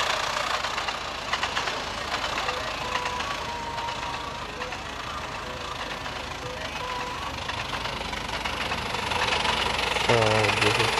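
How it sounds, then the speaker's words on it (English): Steady droning engine of a GE999 train in the Trainz game on Android, a continuous mid-pitched rumble that runs evenly throughout and swells slightly near the end, with no one talking. "The GE999 coaches engine is back on the track."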